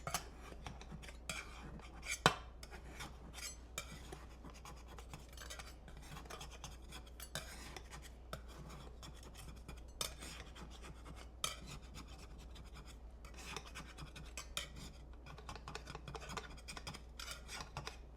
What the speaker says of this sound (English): I don't mind using a metal knife to make sure it's loosened up from the edges here